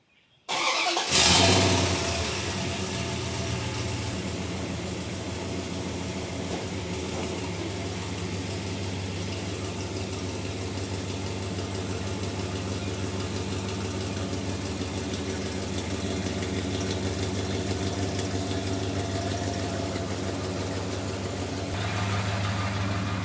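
A Dodge Ram pickup truck engine cranks and starts with a burst, then settles into a steady low idle that runs on close by without talking; the truck has an exhaust leak.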